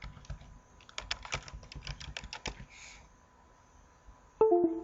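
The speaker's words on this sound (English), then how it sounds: "Let's type my name and my password" Typing on a computer keyboard to enter a name and password: a quick, irregular run of close key clicks for about three seconds, then a pause and a short louder burst of taps at the end.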